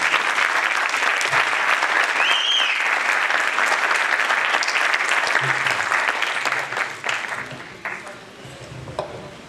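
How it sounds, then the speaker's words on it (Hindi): Loud, sustained audience applause welcomes a speaker to the stage at a talk, many hands clapping steadily before thinning out toward the end, with scattered crowd noise. "राम बहादुर पटेल जी का जोरदार तालियों से स्वागत किया जाए"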